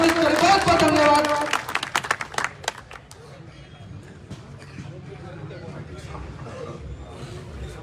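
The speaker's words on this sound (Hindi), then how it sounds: "आपके लोक लाडले प्रत्याशी एक बार जोरदार तालियों से स्वागत" Applause and clapping from a village crowd welcoming a speaker at a live Haryanvi ragni event, loud and dense for the first two seconds, then thinning into scattered claps under crowd murmur.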